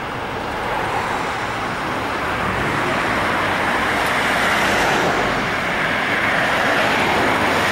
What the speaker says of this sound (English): a view of a long queue of vehicle trying to buy diesel at the last minute